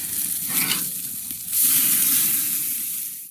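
Loud frying sizzle, a crackling hiss that swells partway through and then holds steady before fading out; no one speaks.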